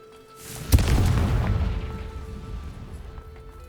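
A fiery Confringo spell blast in the game Hogwarts Legacy: a sharp crack, then a single loud booming explosion that rumbles and slowly fades over about three seconds.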